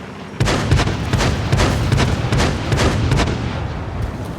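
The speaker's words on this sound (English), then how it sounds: "So artillery in this game" Artillery fire in the tank battle game World of Tanks: a dense, continuous barrage of heavy booms and gunshots that rolls on without pause, loud and close.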